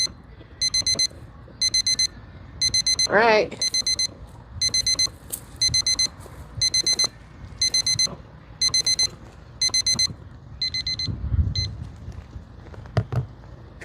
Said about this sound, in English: Oh, there's my timer.